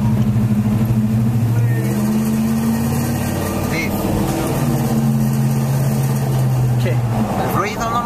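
A car's engine and exhaust drone steadily while driving at night in Iguala, Mexico, with a loud, close rumble that holds throughout and rises slightly near the end, while voices talk over it.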